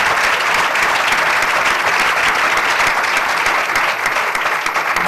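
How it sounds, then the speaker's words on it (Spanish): A studio audience claps for Alberto on a Spanish television show: dense, loud, continuous applause that holds evenly from start to end with no voices over it. "El aplauso del público para Alberto"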